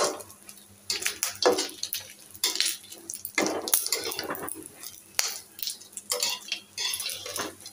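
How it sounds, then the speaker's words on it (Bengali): Eggs frying in a pan in a home kitchen, heard as a soft background sizzle under irregular clinks and scrapes of a utensil against the cookware, close by, with bursts of clatter and no speech. "আর এই ডিম ভাজি করে নিচ্ছি"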